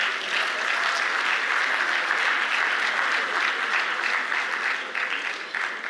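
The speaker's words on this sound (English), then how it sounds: "the two presidents deserve a resounding round of applause" A large audience at the Afreximbank 2025 annual meetings gives two presidents a steady, dense round of applause that holds at an even, full level for several seconds, with no voices over it.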